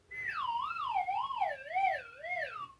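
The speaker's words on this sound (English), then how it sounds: "When you run out of time or when you get it wrong, it makes that sort of, well, the noise you just heard." A modern Simon memory game toy sounds its wrong-answer or timeout effect: a warbling, siren-like electronic tone that wavers up and down as it slowly falls, heard alone for under three seconds.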